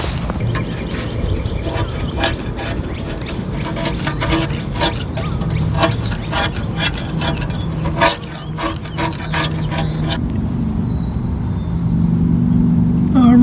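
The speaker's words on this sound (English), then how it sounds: "Let me grab my scraper real quick." A scraper rasps repeatedly against thick caked sludge in a Toyota Camry oil pan, giving rapid rough strokes in bursts before the scraping stops and a steady hum remains.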